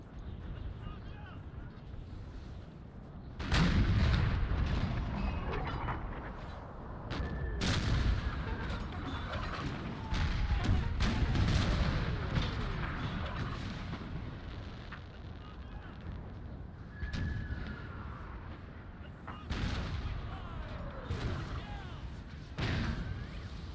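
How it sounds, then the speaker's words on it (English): Cannon and artillery fire in a Napoleon ACW video game battle, a dense, continuous roll of heavy booms and gunfire with sharper blasts bursting out repeatedly over a rumbling battlefield din. "Goes his cannon."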